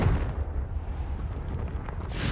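A Confringo blasting spell explodes in the video game Hogwarts Legacy, a dense low rumbling boom that rolls on through the moment, with a brighter burst flaring near the end.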